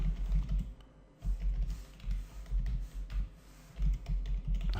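Rapid, uneven typing on a computer keyboard while writing PHP code, close and dry, with bursts of keystrokes and a brief pause near the one-second mark.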